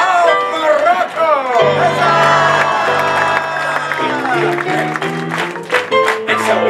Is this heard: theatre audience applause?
yes